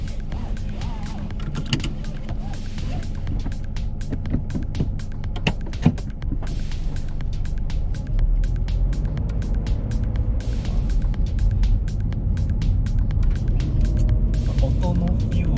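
A facelifted Toyota GT86 drives along with a steady low engine and road hum from inside the cabin, continuous throughout, with faint rattles and clicks and occasional voices talking over it.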